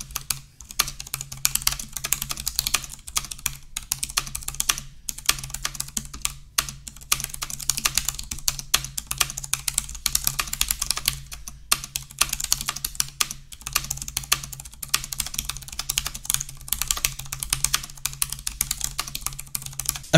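Close-up typing on a Cherry KW X ULP ultra-thin low-profile mechanical keyboard: a rapid, irregular stream of crisp key clicks and clacks with brief pauses, alone with no talking.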